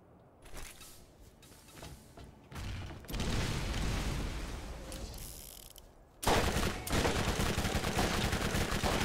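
Gunfire in the video game Borderlands, including revolver shots, heard as long dense volleys of rapid shots, loud and close, with a brief lull before a sharp renewed burst.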